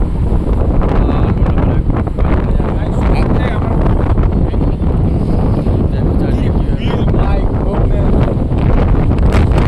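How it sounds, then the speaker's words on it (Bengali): Strong wind buffets the microphone on an exposed hilltop at Khandala ghat, a loud, continuous roaring rush throughout with no clear pauses. "এত হাওয়া দিচ্ছে দেখতে পাচ্ছি।"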